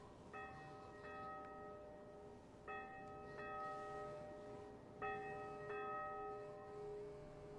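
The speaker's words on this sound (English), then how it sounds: "You can really hear that church bell now." A church bell in the video game Ultrawings tolls repeatedly at a slow, steady pace, each strike ringing out and fading, heard at a distance over a soft background hum.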